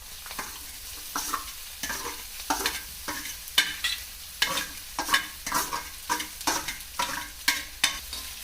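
Chopped potatoes cooking in ghee for khichdi, stirred in a pan with a soft steady sizzle and a regular series of scraping stir strokes roughly every half second, close and moderately loud with no voices.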